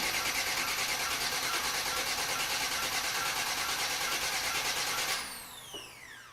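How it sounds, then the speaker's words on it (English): A car's starter cranks a freshly built engine to prime the oil, a loud, steady, rapid whirring that runs for about five seconds and then cuts off, leaving a ringing, fading whine and quiet. "I'm going to hit my starter for a few seconds."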